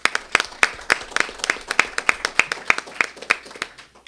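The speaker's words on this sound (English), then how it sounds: "Let's give her a big round of applause." Distinct hand claps in a steady, fairly sparse rhythm from a modest crowd at a school board meeting, welcoming an eighth-grade English teacher; the clapping is close and clear and continues throughout.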